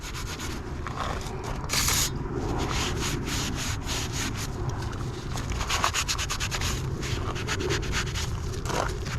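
Sealant being wiped and scrubbed off a 1946 John Deere B tractor fuel tank with brake cleaner, a steady close rubbing and scraping that runs throughout with a brief louder spray-like burst near the start.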